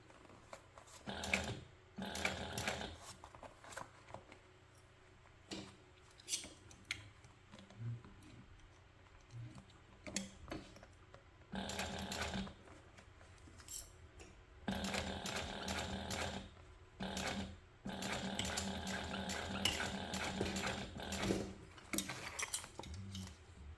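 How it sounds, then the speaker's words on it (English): A sewing machine stitches a seam on a crossbody or waist bag, running in repeated bursts with brief pauses and short back-and-forth reverse stitching, close and steady, with no talk. "you want to make sure as you come back around the bottom that you stop and back stitch at the line that you marked"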